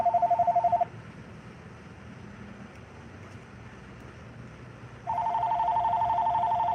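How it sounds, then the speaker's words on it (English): A telephone rings at a rural produce fruit stand with two bursts of electronic pulsing tones, one at the start and another starting near the end, over low background hum. "Got a phone call."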